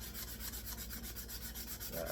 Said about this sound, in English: And really sand on this.